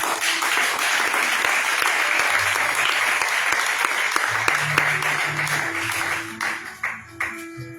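A church congregation applauds and cheers in sustained, dense clapping with voices mixed in, tapering toward the end as scattered claps and sung tones emerge.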